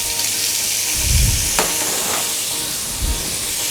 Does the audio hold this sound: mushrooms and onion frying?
yes